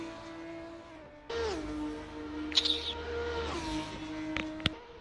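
Formula 3 race car lapping Autodromo Nazionale Monza in qualifying, its engine note holding a steady high drone that rises and shifts pitch through the lap, with brief sharp squeaks over it and faint voices in the background.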